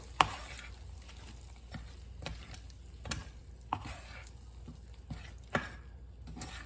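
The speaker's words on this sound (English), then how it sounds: "And then we are going to mix all of that together." A spoon scrapes and knocks as tomato soup ingredients and oregano leaves are mixed, giving sharp taps a second or so apart over a quiet bed of faint sizzle.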